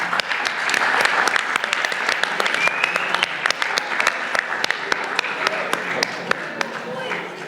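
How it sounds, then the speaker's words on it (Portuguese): An audience claps for Carolina, the first reader of a children's book, at a book launch; dense, loud applause runs steadily throughout with sharp individual claps near the front. "Uma grande salva de palmas por ela também."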